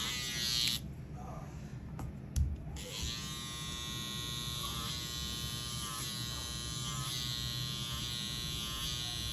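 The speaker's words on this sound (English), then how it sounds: "Don't press too hard to let the trimmer do its job" An electric hair trimmer buzzes steadily and close while cutting hair during a high taper haircut, with a brief break and handling knocks near the start, then a continuous whine.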